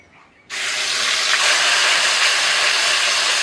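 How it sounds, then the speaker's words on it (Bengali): Onion paste hits hot oil in a wok and a loud, steady sizzle starts abruptly, then holds as a dense, even hiss close by. "আর তেলের মধ্যে দিয়ে দিচ্ছি পেঁয়াজ বাটা।"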